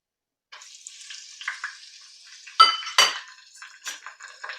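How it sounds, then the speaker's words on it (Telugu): Ground masala frying in hot oil for a fish curry (pandugappa fish), a steady close sizzle with metal utensil scrapes and clinks from stirring in the pan, two sharper louder bursts partway through. "ఇప్పుడైతే నేను ఈ ఆయిల్లో ఫస్ట్ అయితే మసాలా వేసేసుకుంటున్నా."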